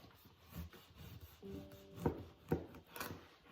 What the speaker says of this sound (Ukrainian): Тепер беремо ножем і зрізуємо верхню частину у вигляді кришечки.